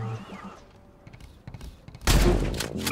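Sniper rifle gunshot in the video game Industria, a sudden loud broadband blast near the end following quieter thuds and game sounds.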